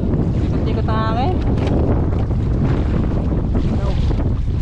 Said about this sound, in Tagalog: Ikot-ikot ang hangin.